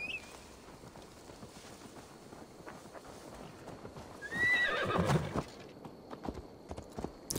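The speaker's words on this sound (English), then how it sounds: "Now to deliver Magni his horse." A horse in the video game Assassin's Creed Valhalla gives a loud, rising whinny midway through, while its hooves clip-clop steadily from start to finish over soft outdoor game ambience.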